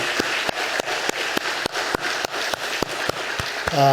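A church congregation at a Korean Sunday service gives a short burst of applause, about a dozen sharp, evenly spaced claps ringing in a hall, with a voice starting up at the very end.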